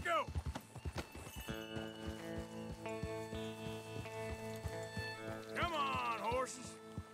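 Horse hooves clip-clopping in the video game Red Dead Redemption 2, a steady rhythmic trot with music underneath, and a horse whinnying loudly near the end.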